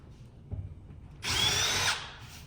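A power drill bores into a sheetrock wall with a standard bit: a faint tap, then a loud, steady, high whirring burst of about half a second that tails off, heard close.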